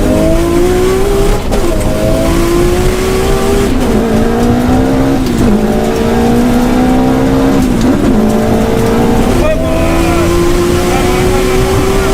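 Subaru Impreza WRX and Nissan R34 Skyline in a roll race, a loud engine roaring continuously with rising pitch through several gear shifts, each shift a brief dip before climbing again, tires and wind noise underneath.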